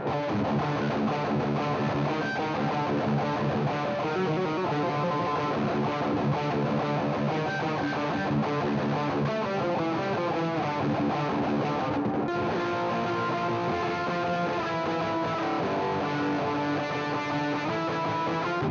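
An electric guitar played through a Universal Audio Lion '68 Super Lead amp with a distortion pedal in front churns out loud, saturated, sustained chords and riffs for the whole stretch, with only a brief break in the middle.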